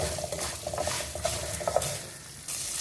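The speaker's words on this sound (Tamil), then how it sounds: "இந்த வெங்காயம் நல்லா வதங்கிடுச்சு." Onions sauté in a pan for a moringa leaf chutney, with soft spatula scrapes and light stirring over a quiet, low sizzle and no talking.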